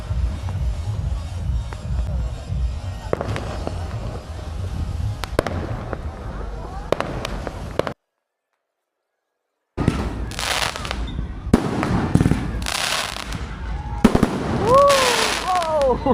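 Fireworks and firecrackers going off on a beach in Thailand around New Year, with repeated crackling pops and bursts at varying distance and some whistling rockets, while people talk nearby.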